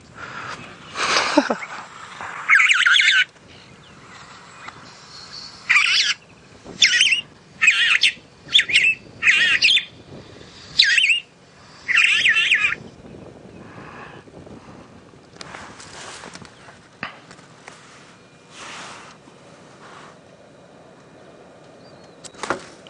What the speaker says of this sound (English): Quite a funny call coming out of that bird.